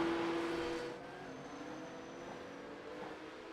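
Porsche 911 Cup (992.2) race car in the iRacing sim at the Miami International Autodrome, a steady, fairly quiet engine drone with a tonal whine that drops and settles after the first second, no voices.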